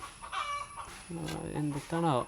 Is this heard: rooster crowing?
yes